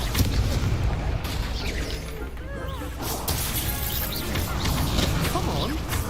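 A Confringo spell blast during a Hogwarts Legacy duel, heavy crashing booms and whooshing impacts layered over game music, with voices calling out amid the fight.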